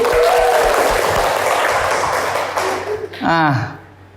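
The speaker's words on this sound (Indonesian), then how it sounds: "Coba kita tepuk tangan dulu." A class claps hands together in a classroom, loud dense clapping that fades out over a few seconds, followed by a short burst of a voice near the end.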